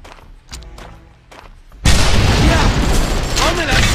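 A grenade explosion in Code of Honor, a French Foreign Legion shooter, bursting suddenly and loudly after a quieter stretch of scattered thuds, then ringing into a sustained noisy rumble, while someone talks.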